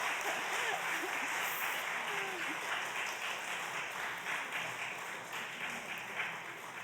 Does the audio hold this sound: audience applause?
yes